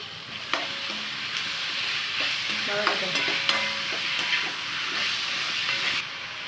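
Onions, tomato and ginger-garlic paste sauté in a pan for a kurma, giving a steady close sizzle and hiss with scattered stirring clinks and scrapes of the spoon against the pan.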